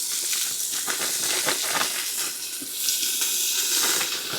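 Onion, garlic and diced preserved jalapeno sizzle steadily in a hot Instant Pot, a continuous bright hiss of frying close by with no talk over it.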